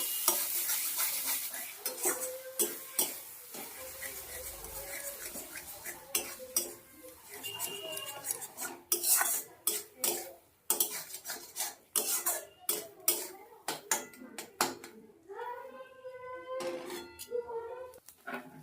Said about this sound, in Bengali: এবার এই দেখো একটু নাড়িয়ে চাড়িয়ে সুন্দর করে শুকনো শুকনো করে নেবো